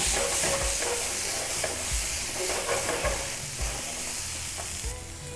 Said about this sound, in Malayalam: അത് കൂട്ടി mix vegetable and tomatoes 2 minute saute ആക്കുക